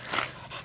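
A dog out in a forest gives one brief, close whimpering or panting sound against a soft, breathy background.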